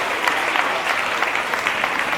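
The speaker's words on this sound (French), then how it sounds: "On les applaudit très fort." A crowd at a school mental-arithmetic competition in Abidjan claps steadily, a dense, even roar of many hands at moderate distance with no break.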